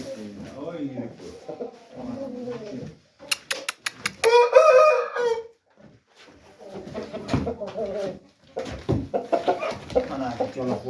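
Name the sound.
two roosters crowing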